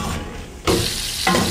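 Urad dal dropped into hot oil sizzles in a pan, a quiet frying hiss that jumps louder in two bursts as it is stirred.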